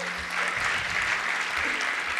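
Audience applause fills a community health service anniversary celebration, a dense, steady wash of many hands clapping at moderate loudness throughout.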